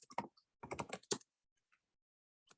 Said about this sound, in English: I'm gonna type it up nicely here